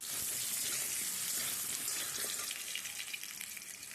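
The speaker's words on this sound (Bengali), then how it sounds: "কচু আলুটাকে একটুখানি হচ্ছে লাল করে ভেজে নিচ্ছি।" Taro frying in oil in a wok, a steady broad hiss of sizzling that stays constant throughout without any talk.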